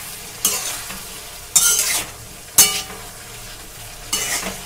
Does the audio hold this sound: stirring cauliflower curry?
yes